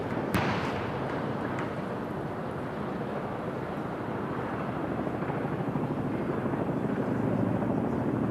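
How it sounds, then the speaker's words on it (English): Heavy rotor noise from three Puma and three Chinook helicopters in an RAF flypast over Buckingham Palace fills the air in a continuous, loud rumble, a broad deep drone passing overhead with no talking. "3 Puma helicopters and 3 massive Chinooks"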